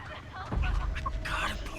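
A chicken in the Texas Chainsaw Massacre video game gives a short burst of clucking amid loud game ambience and low rumble. Players talk over it.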